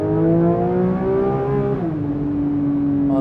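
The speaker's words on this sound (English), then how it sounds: "so this is a naturally aspirated, high revving flat six, just over 500 horsepower" A naturally aspirated, high-revving Porsche 911 flat-six of just over 500 horsepower drones loudly from inside the car, its pitch climbing steadily, then dropping briefly as it shifts before settling at a sustained, smooth howl with no talking.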